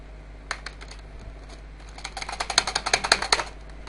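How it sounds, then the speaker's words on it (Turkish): A computer keyboard clatters during gaming: a few scattered keystrokes, then a quick run of sharp, close clicks that builds and fades, with no voices. "Bilmiyorum size klavyenin sesi geliyor mu"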